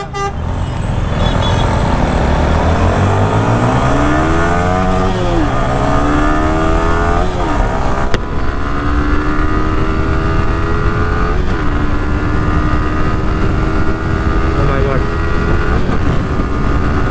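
Yamaha FZ25 and R15 250cc motorcycles racing, their engines loud and continuous throughout, revs climbing steadily in pitch and then holding a high, droning whine close by.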